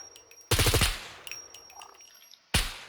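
Gunfire rings out in a shooting video game. A loud burst of rapid automatic shots is followed by quieter game sounds, then a second sharp burst near the end.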